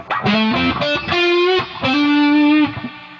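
Heavily distorted electric guitar through the high-gain channel of a Fender Twin amp, gain at about 5, plays sustained notes and short chords with a thick, saturated high-gain tone, loud and close.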